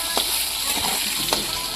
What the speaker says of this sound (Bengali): এখন এটার মধ্যে আমরা আলু দিয়ে এটাকে ফ্রাই করে নেব।